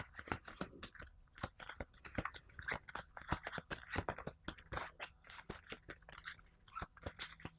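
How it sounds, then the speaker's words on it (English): Threat cards for the board game Leviathan Wilds are shuffled by hand: a steady run of crisp, close riffling snaps and soft scraping card edges, with no voices. "I'm going to go ahead and shuffle all these up"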